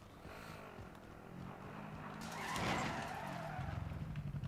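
Tyres skid and screech in a VR racing game as a car slides, a smeared rising squeal swelling mid-clip over steady engine rumble, fairly loud with no voices.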